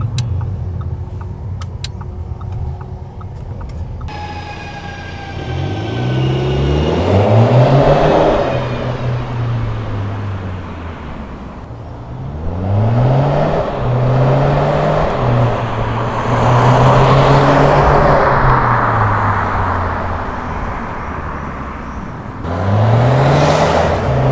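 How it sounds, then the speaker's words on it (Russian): An Audi A4 turbo diesel with a dual exhaust revs up repeatedly, rising and falling in pitch through several loud bursts, close by with no talking. "Вот когда он набирает обороты, тогда звук хороший такой, да, мощный"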